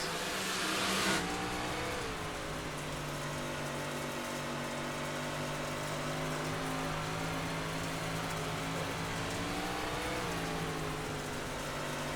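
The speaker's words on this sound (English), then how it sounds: "Let's go on board with the title sponsor car" Onboard a 358 modified race car at Volusia Speedway, with a steady loud engine drone holding a near-constant pitch and a slight dip and rise toward the end.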